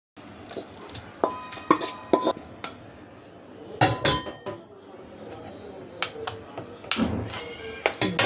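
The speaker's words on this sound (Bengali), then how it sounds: "একটু লবণ দিয়ে আমি এটাকে ভালো করে ফেটিয়ে নিচ্ছি" Eggs with salt and tuna are beaten hard in a bowl for an egg pizza. Close, uneven clinks and taps of utensil on dish come in busy bursts with short pauses between them.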